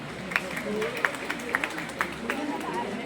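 An auditorium audience at a school awards meet claps in a steady patter, with scattered sharper claps and a murmur of crowd noise underneath.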